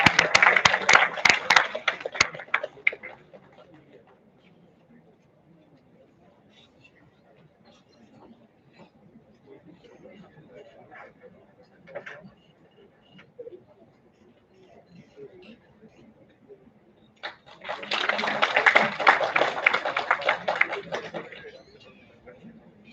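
Conference audience applauding a speaker, a burst of clapping at the start that fades into quiet room noise, then a second loud round of applause rising and tapering near the end.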